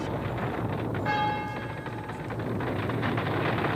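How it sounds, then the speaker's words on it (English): Church bells across San Francisco ring out faintly over a low rumbling background at dawn, their tones clearest for a moment early on and then fading into the din. "every church bell in San Francisco began ringing"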